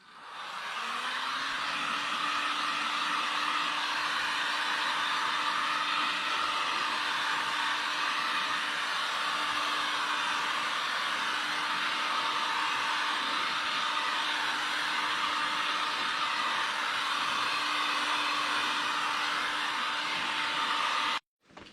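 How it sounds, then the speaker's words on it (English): A heat gun blows hot air steadily at close range while a farrier works on a horse's hoof, fitting glue-on shoes. The even whooshing roar holds with a faint whine for the whole stretch, then cuts off abruptly at the end. "When using a heat gun or a blowtorch, it's important to keep the gun moving so that we're not cooking a certain area of the foot."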